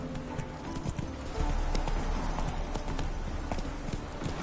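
Horse hooves clip-clop steadily in the Witcher 3 video game, a brisk, close rhythmic trot of hoofbeats that carries on without pause.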